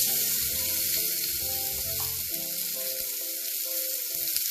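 Frozen mixed vegetables and hing go into a hot pan and set off a loud, continuous sizzle, a bright hiss that holds steady throughout, with faint background music underneath.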